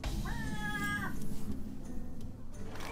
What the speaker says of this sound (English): that little cat is going to climb her way all the way up on up